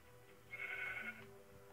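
A single sheep in the Minecraft video game gives one short, bright bleat, faint and alone against a quiet background.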